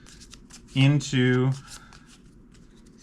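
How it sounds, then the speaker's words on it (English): Digital card-shuffling effect from the Legends of Runeterra card game as four cards go into the deck: a soft, steady papery riffle running the whole time, briefly overlaid by a man's spoken word in the middle. "I'm going to shuffle 4 cards"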